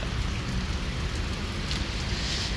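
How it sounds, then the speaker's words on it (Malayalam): Steady rain falls outside a vehicle on a road trip through Gujarat toward Ladakh, a dense, continuous hiss of drops on the car's surfaces with a low rumble underneath, constant in level throughout, with no talking. "പുറത്തെല്ലാം മഴയാണ്"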